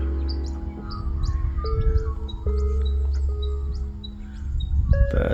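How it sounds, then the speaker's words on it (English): Magpies call from a distance in damp outdoor morning air, a series of short chattering chirps repeating across the stretch, faint over a steady low rumble. "Hear the magpies over there."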